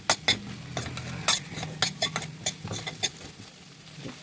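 Potato tomato curry with chilli powder and salt is stirred in a pan, a series of sharp close scrapes and clinks of a spoon over a faint sizzle, with no voice.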